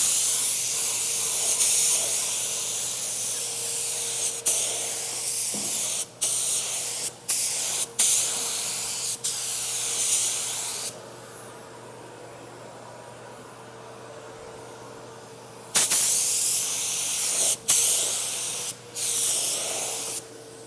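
Spray gun laying clear coat on a car panel in repeated hissing passes, each a loud steady spray cut off abruptly, with one long pause of quiet hum in the middle before the spraying resumes.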